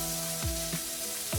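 Onion fries in olive oil in a pan with a steady, close hiss and sizzle, broken by a few short stirring scrapes.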